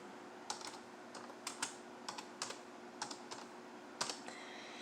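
Typing on a computer keyboard, a short run of soft, close key clicks in uneven little bursts over a faint steady room hum, no talking.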